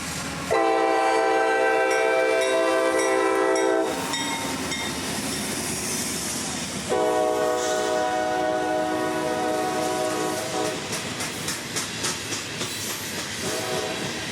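A freight train running from Waycross to Moncrief Yard passes close by in Jacksonville, its horn blaring in two long blasts over rumbling wheels, then a rhythmic clickety-clack of cars rolling past.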